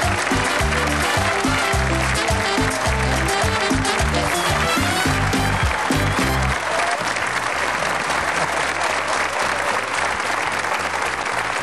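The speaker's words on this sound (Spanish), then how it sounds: "el aplauso de despedida lo comparto, como no, con mi amigo Javier" Farewell applause from the audience at a comedy gala, loud, continuous clapping with pounding music beats over the first half, then applause alone carrying on strongly to the end.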